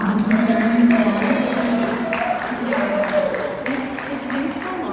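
Audience clapping steadily in a warm round of applause, fairly close and sustained, with a voice speaking over it.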